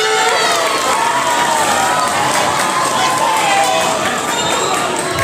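A hall full of junior high students at a school entrepreneurship workshop applauding loudly, with clapping blended into cheering and children's shouts, a dense roar sustained throughout.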